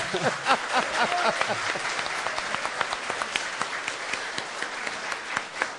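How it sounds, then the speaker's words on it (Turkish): Audience applause at a public program with the district governor and mayor of Sungurlu, Çorum: dense, steady clapping from a nearby crowd filling the whole stretch, with a few brief voices and laughter mixed in. "alkış alkış"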